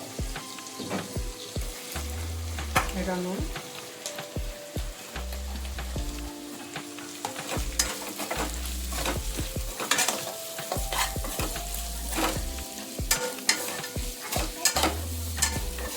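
Onions frying in hot oil in a pan for Andhra-style noodles, a continuous close sizzle with frequent clanking, scraping stir strokes and spatula knocks throughout, and no one speaking.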